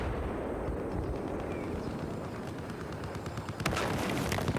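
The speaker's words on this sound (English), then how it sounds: "artillery cover being provided by Bongman" Artillery fire in a 16v16 close-quarters video game battle, a dense continuous barrage of blasts and gunfire with a sharp louder volley near the end, no voices over it.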